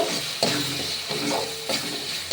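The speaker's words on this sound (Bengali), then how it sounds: "গরম মশলা দিয়ে আবারও সব মিলিয়ে কষিয়ে নেব" Potato curry stir-fried in a pan with garam masala, turmeric and Kashmiri chilli powder, giving a steady close sizzle with a few louder scraping stirs of the spoon, no voices.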